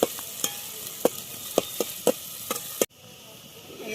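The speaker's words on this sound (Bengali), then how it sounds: "কিছুটা ভাজবো এটাকে, পেঁয়াজটাকে" Onions frying in a pan for an egg and red lentil curry, a soft sizzle punctuated by a series of sharp spoon taps and scrapes against the pan, ending abruptly in a quieter hiss.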